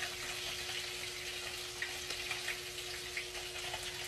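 Tilapia frying in a pan, a steady hiss of sizzling oil with scattered small pops, fairly close and alone without talk.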